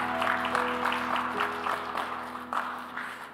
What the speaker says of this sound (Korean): 우리 박수로 서로의 삶을 응원하며 축복하겠습니다.